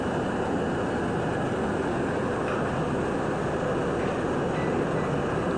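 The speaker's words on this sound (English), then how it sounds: "by the way, that's the D train" An NYC Subway D train, an R68 or R68A car, roars past at night in a steady dense rumble of wheels and rail noise, loud and close for the whole stretch, with no voices.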